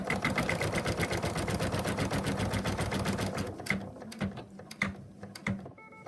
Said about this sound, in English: The next color is going to stitch the placement line for the first ear.